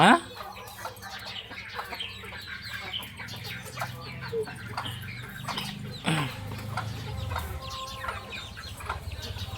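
Chickens cluck and a rooster calls amid a busy farmyard as chicks are fed, with people talking nearby and steady background noise throughout.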